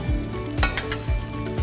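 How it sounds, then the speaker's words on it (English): Pepper steak with peppers, celery, onions and soy sauce simmers in a pan, giving a steady, close sizzle with faint clinks, while low tonal music runs underneath. "our pepper steak has been simmering for about 20 minutes, and let's check and see how she's doing"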